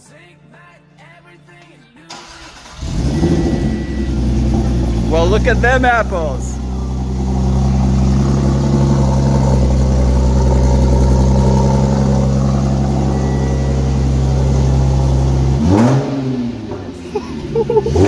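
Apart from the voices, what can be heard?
Audi S4 B8 engine starting and revving after engine swap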